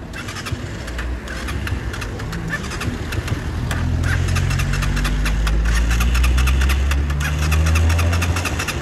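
A motorcycle engine kick-started and left running: a rough, steady mid-pitched idle that builds and settles, close by, with no talk over it.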